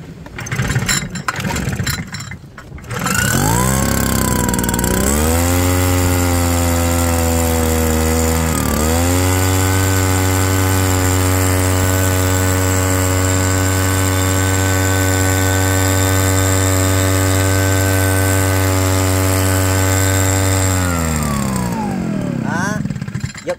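A Japanese four-stroke lime sprayer engine starts after a brief noise, then runs loud and steady close by, with a short dip in revs partway through before settling at a high constant drone until it cuts off near the end.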